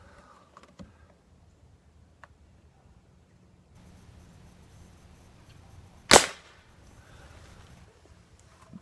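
A Gamo Whisper Fusion Elite air rifle fires a lead pellet, producing a single sharp, loud crack midway through an otherwise quiet outdoor stretch.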